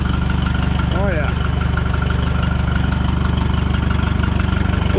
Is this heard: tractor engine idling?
yes